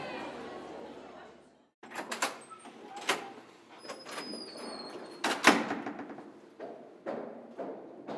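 Chains are removed from doors that are then opened in a dramatized story reading: a run of clanks, clicks and knocking thumps spread over several seconds, with faint murmuring voices underneath.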